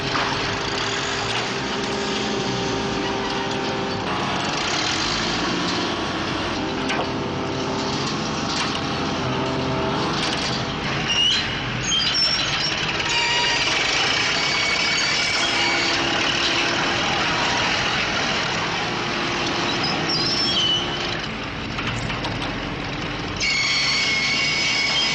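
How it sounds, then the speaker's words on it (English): A 600 horsepower crane engine strains while dragging a heavy stone block, giving a continuous loud mechanical rumble with grinding, scraping texture and shifting engine tones. "Using a 600 horsepower crane, could they lift the rock?"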